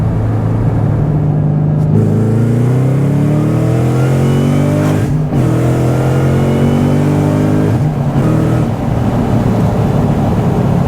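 A supercharged Ford Mustang Shelby GT500 with 760 hp accelerates hard, its loud engine note climbing steadily through the gears with brief dips at each shift, heard up close from inside.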